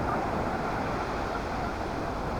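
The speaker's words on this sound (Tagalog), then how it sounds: "ingay ng dagat" Steady sea surf rolls at a lakeside resort in Real, Quezon, a continuous broad wash of waves with no distinct breaks, moderately loud and alone without voices.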